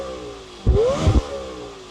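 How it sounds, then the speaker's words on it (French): Lamborghini Temerario engine given a quick rev: a short throaty bark rising in pitch, with a second punchy blip right after, heard close over a low idle hum. "je vais faire vrombir ma Temerario"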